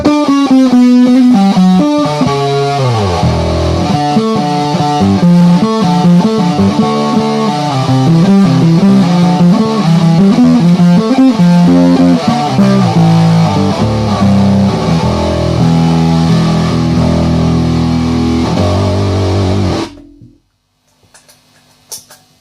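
A fuzzy, heavily distorted electric guitar plays a loud, thick riff for about twenty seconds, then cuts off abruptly into near silence.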